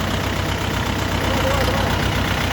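A four-cylinder diesel tractor engine idles steadily with a low, even rumble and faint rhythmic knocking throughout.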